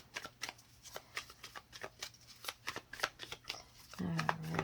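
A deck of tarot-style cards being shuffled by hand, a close, rapid series of soft riffling flicks and slaps in an uneven rhythm, ending in a brief louder rustle.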